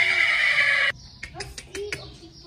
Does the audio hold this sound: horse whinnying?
yes